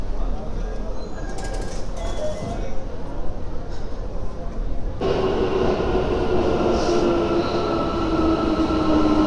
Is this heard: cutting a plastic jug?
no